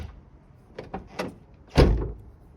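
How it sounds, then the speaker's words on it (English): A Subaru Forester car door closes after a window regulator replacement, with a few light clicks and rattles before one solid, close thunk, no talking. "Close the door and see if it's in a good spot."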